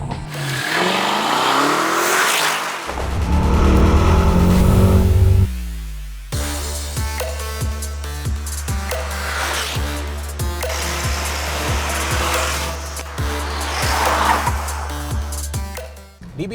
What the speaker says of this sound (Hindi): एक 4 litre twin turbo V8 engine जो 550 HP की पावर तो बनाता ही है, बट साउंड ऐसा करता है